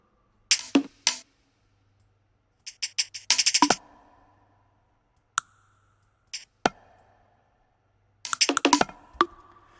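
Layered percussion samples from a remix, sounding as sparse, sharp clicky hits and short rattling clusters separated by silences, fairly quiet overall with a faint low hum between them.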